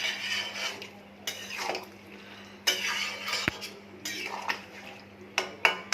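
Indian curry in a pot, with sugar, garam masala and ghee just added and the gas turned off, gets stirred with a utensil: a few separate scraping strokes and clinks against the metal, close and moderately loud, over a low steady hum.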